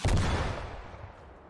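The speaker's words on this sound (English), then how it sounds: "I think Cody just shot a rocket. Yeah, because he's got a Carl." A single heavy boom from a Carl Gustaf rocket launcher fired in Squad, a loud close blast that rolls off into a fading rumble, with no talking.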